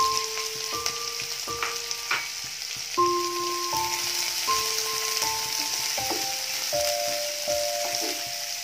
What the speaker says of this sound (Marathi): हा चांगला कांदा लालसर होईपर्यंत आपण भाजून घ्यायचा आहे।